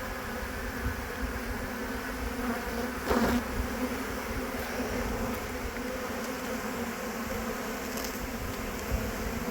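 Honeybees rescued from a bathroom buzz inside a bee vacuum catchment, a dense, steady droning hum from a mass of insects up close, with a few brief louder surges.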